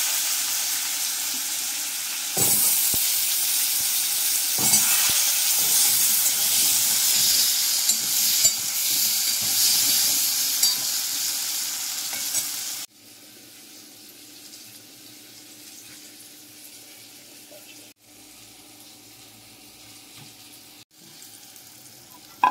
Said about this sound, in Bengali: এবার আমি কয়েক টুকরো আলু ভেজে নেব ওই তেলেই